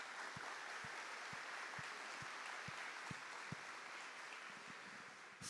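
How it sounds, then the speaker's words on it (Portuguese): Congregation applauding during a church service, a steady wash of many hands clapping at even loudness throughout, with a few sharper low thumps standing out near the front. "Vamos aplaudir essa palavra, Deus ama você."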